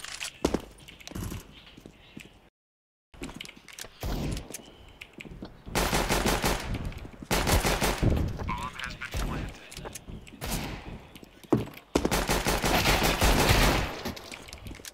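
In a video game played at a LAN session, an AK rifle fires in long automatic bursts, loud and dense, broken by short pauses, while players shout and talk over the shooting.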